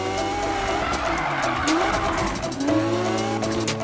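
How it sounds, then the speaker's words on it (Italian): A car drifts through a police station in the Need for Speed racing game, its engine roaring steadily under repeated rising tire squeals and skids, loud and close throughout. "sto sgommando in una stazione di polizia e nessuno mi dice niente"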